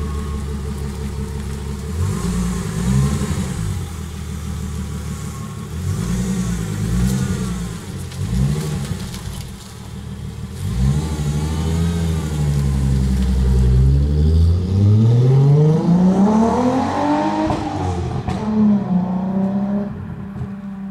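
A VW Corrado engine revs loudly in repeated bursts, rising and falling several times before a long climbing rev to a high pitch that then drops back, close and dominant with no talking.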